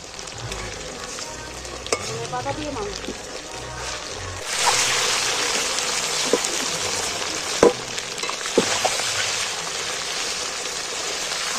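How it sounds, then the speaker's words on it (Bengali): Sizzling of chicken frying in a pan that swells louder partway through, with occasional sharp clatters of a utensil against the pan, close up and steady. "উল্টে ভেজে নিচ্ছি মাংসটা"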